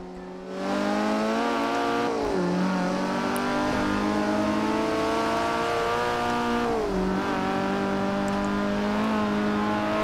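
A car in the racing game Forza Horizon 4 drives steadily on the road, its engine droning loud and close with harmonic tones that dip briefly twice as it shifts gears, no talking over it.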